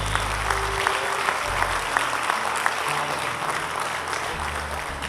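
A church congregation claps for the Lord during a New Year's Eve worship service, sustained dense applause filling the room for several seconds while a low hum and a few sharper claps stand out.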